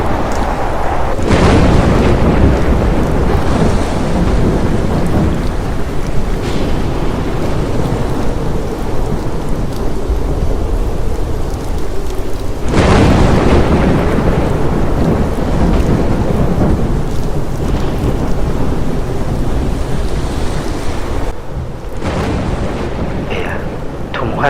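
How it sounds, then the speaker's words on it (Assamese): Loud thunderstorm with steady heavy rain and rolling thunder crashes, a sound effect behind a recited love letter; the downpour hisses continuously while big thunder swells break in near the start and again midway. "ধুমুহাজাক বৰ ডাঙৰ হৈ আহিছে।"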